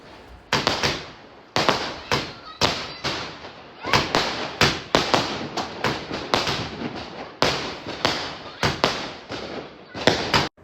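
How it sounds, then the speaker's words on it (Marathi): Fireworks burst at midnight for Ambedkar Jayanti in Solapur as a rapid series of loud, sharp bangs and cracks, some overlapping, firing nearly nonstop with short gaps between clusters. "पुढे बघा 12 वाजता कसा धमाका झाला होता"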